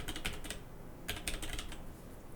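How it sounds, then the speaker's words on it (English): Rapid clicking of keys on a computer keyboard, two quick flurries of typing separated by a short gap, close and steady over a soft background hum from a gaming PC. "I'll do a quick keyboard test, just so there's some sound comparison."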